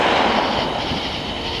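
Home fireworks let off in a backyard show give a dense, loud burst of crackling that fades slowly into a steady rushing hiss.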